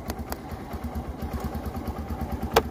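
A motorcycle fitted with a Tass Lock Defender V208 alarm idles steadily just after starting, a low, even, throbbing engine note running throughout with a sharp click near the end.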